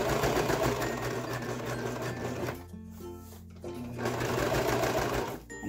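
Close, loud whirring of a sewing machine stitching cotton fabric, running steadily with a brief pause midway before resuming.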